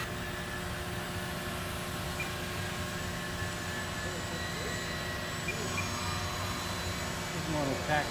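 A steady model airplane engine whine drones throughout as it taxis indoors in a golf dome, fairly faint and constant, with a sustained tonal hum and no talking.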